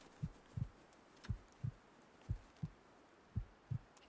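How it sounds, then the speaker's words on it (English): Low, muffled heartbeat thumps in steady lub-dub pairs play in a survival video game, about four paired beats across a few seconds, soft and alone against a quiet background. "Heartbeats."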